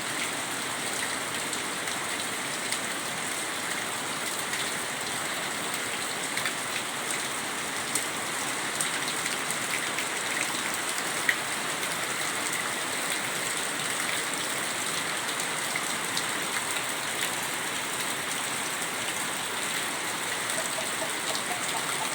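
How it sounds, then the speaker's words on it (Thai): Heavy rain pours steadily in a rural Thai setting, a dense, even hiss of drops on surfaces that holds at a constant level throughout, with no voices. "ฝนตกจังหน่อยนี่กา"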